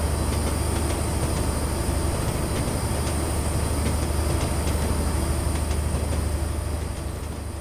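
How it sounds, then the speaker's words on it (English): A train runs steadily through rain on the Edinburgh to Dundee line in Train Simulator 2017, with a continuous loud rumble and faint rhythmic wheel clicks. No one speaks. "Look at this train, such a nice train."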